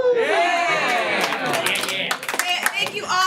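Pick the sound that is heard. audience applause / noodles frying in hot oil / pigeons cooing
audience applause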